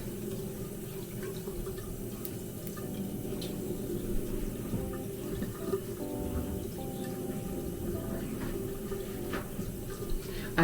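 Water runs steadily from a tap while someone rinses their face, a continuous splashing wash with faint clinks and drips over it, fairly close and moderately quiet.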